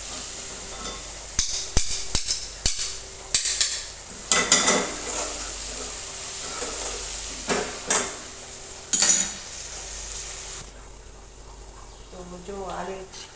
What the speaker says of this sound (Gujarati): થોડી વાર આપણે આ રીતે આપણે તેને હલાવતા રહીશું.